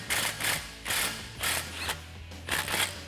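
A ratchet tightens the exhaust clamps on a 2018-2020 Mustang GT stainless cat-back with an X-pipe. Bursts of quick clicking come in about five even strokes, close up and moderately quiet.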